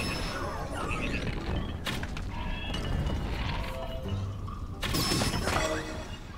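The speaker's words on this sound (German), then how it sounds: "Ach, das Ding ist explodiert." A bomb goes off in The Legend of Zelda: Tears of the Kingdom, a few sharp crashing bursts over steady rumbling game ambience, the loudest blast near the end, with no speech.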